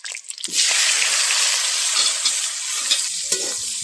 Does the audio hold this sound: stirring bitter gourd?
yes